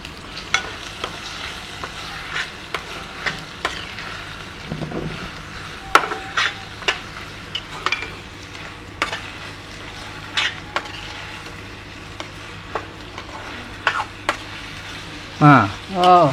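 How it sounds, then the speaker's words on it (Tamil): Tomatoes sautéing with ginger-garlic paste in a pan, a steady soft sizzle with occasional stirring scrapes and clinks, close by and moderately loud. "இப்போ தக்காளியை போட்டுவிடுவோம்."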